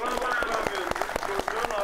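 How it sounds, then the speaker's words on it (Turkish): Audience applause at a talk, a crowd clapping with distinct sharp hand claps standing out over a continuous bed of clapping, steady throughout. "Alkışlar"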